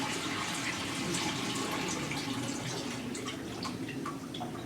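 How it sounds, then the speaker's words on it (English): Stripping solution drains out of a container and drips through holes in its base after a zinc-stripping bath for classic car parts: a steady wash of running liquid with scattered close drips, continuous and moderately loud. "We'll let that drip off a little bit through the holes in the bottom of the container."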